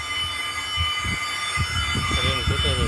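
A train rolls along the rails nearby with a steady rumble, rhythmic wheel clatter and high metallic squeals, while voices murmur faintly underneath.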